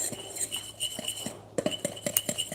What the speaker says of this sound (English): we're just gonna use a fork or a whisk and just mix that together to distribute